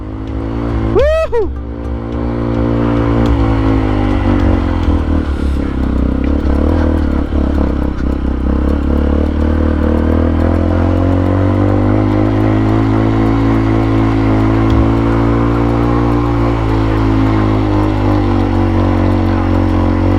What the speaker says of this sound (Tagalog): Laro-laro lang ng throttle pala.